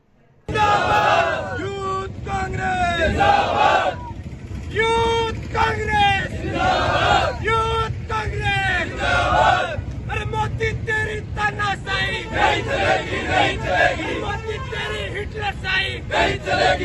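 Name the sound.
protest crowd chanting slogans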